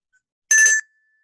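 An inexpensive handbell, used for Montessori bell matching, is struck once with a bright, ringing tone that cuts off after a moment, leaving a faint lingering hum.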